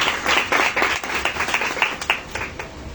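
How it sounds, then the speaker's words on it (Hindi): Loud applause from a congregation at a Hindi-language Christian sermon, many hands clapping densely and steadily throughout, close and energetic. "जोरदार तालियों से अपने खुदावंद को जवाब देंगे, जोरदार तालियों से"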